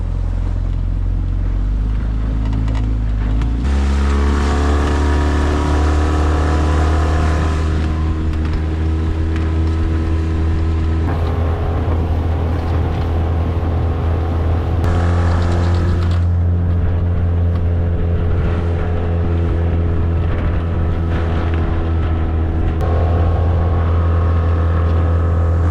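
A small outboard motor on a tiny inflatable boat drones steadily, with a low throbbing hum whose pitch shifts a few times as the throttle changes, continuous and close throughout.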